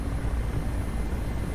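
Mi-8 helicopter in flight in the DCS combat flight simulator, heard as a steady, dense low rotor and turbine drone that stays constant throughout, with no talk over it.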